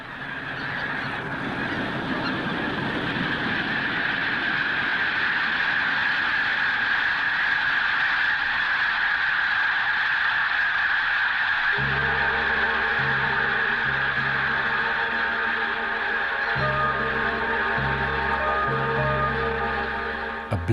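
A large flock of snow geese honks continuously in a dense, loud chorus as the birds lift off together, with a low machine drone joining partway through.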